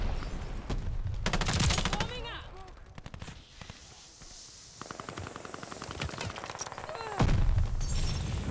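Rapid bursts of automatic gunfire from a newly equipped gun in a late-night video game session, loud dense volleys starting and stopping several times across the stretch with a voice talking faintly underneath.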